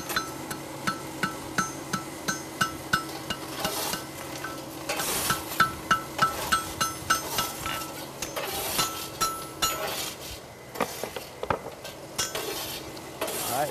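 A striker hammers a red-hot horseshoe on the anvil at a forge, with sharp metallic blows in a steady rhythm, close and loud, pausing briefly before another run of strikes.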